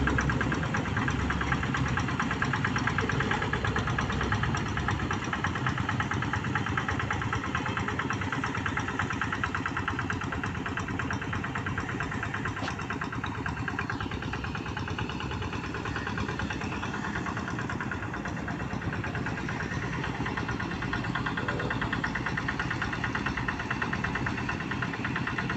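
Hand tractor engine running steadily while leveling hoed farmland, a continuous rattling, knocking mid-pitched drone that stays loud and close throughout with no voices.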